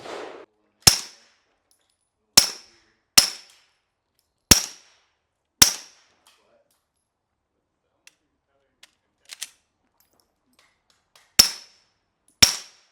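Glock pistol firing through a Nitro N2O silencer, with sharp suppressed shots spaced irregularly, about eight of them, each a crisp crack with a short tail and quiet gaps between.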